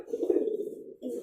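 A male Bandangan pigeon coos while driving a female, giving a low, throaty, rolling coo that runs close and steady for about a second, then breaks off briefly before starting again.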